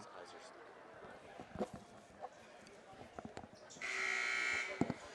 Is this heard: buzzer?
yes